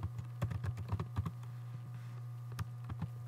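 Quiet, close typing on a computer keyboard, a rapid irregular patter of soft key clicks over a steady low hum, with a brief pause partway through and no voice.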